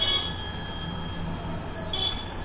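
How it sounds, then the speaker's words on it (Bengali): A train runs past in a steady, loud rumble of wheels and carriages, with thin metallic squealing tones held over the noise throughout and a brief rise near the end. "আপনার ওখান থেকে বিচ্ছিরি শব্দ আসতেছে। মনে হচ্ছে যেন ট্রেন চলছে।"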